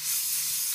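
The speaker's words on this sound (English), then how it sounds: "when I'm spraying like this, paint's going all down in here too" Airbrush spraying paint onto a miniature model, a short continuous close hiss of air and paint mist, even in level from start to finish.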